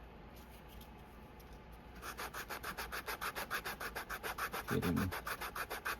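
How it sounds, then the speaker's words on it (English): Leather wallet edges being sanded by hand with 120-grit sandpaper, a rapid run of rhythmic rasping strokes close up that starts after a quiet pause and continues steadily, with a brief louder thump near the end. "we'll sand these off with this 120 sandpaper"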